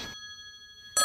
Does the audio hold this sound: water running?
no